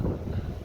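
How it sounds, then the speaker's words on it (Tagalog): Strong wind gusting past the microphone inside Manila City Hall during a cleaning operation, a brief, close, muffled buffeting roar with no other sounds standing out. "Lakas ng hangin, oh."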